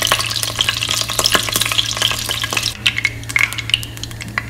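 Chicken fries loudly in a pan beside a steady low hum, churned by a rapid run of metal spatula scrapes that slows to scattered clinks partway through.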